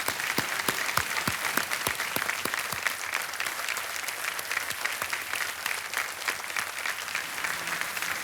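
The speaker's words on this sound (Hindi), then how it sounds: "एक बार फिर तालियां।" Sustained studio audience applause at a televised quiz show, a dense, steady clapping that carries evenly for several seconds with no speech.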